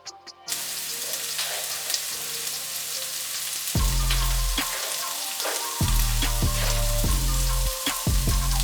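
Green onions and mushrooms sautéing in a pan while making mapo tofu, a steady loud sizzle punctuated by repeated knocking and scraping of a utensil against the pan, with no talking.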